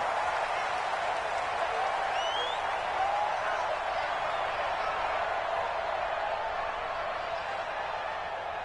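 Stadium crowd roaring in a Seattle Seahawks versus Washington Redskins football video game on PS4, a steady, dense wash of cheering and applause that holds throughout.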